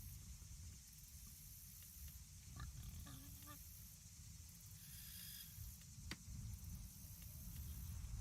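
A pig in the video game Mortal Online II gives a few short grunts partway through, half buried under a steady low rumble and hiss of game ambience.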